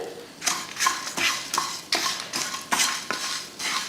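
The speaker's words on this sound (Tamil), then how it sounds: "தேங்காய் போட்டு லைட்டாக வதக்கிட்டு" A utensil scrapes and stirs grated coconut in a frying pan with a steady rhythm of about two strokes per second, close and clear.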